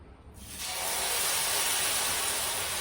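Loose idli batter for uttapam poured onto a hot oiled pan, hitting the surface with a sudden, steady sizzling hiss that grows loud and holds evenly.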